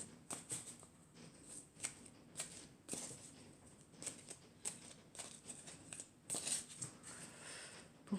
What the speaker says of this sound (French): je vais prendre une carte de l'oracle des elfes